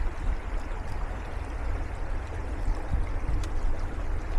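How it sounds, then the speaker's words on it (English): Steady rushing and gurgling of a backyard creek, continuous and close, with no talk over it. "Back here, the creek."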